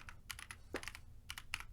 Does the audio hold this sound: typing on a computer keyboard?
yes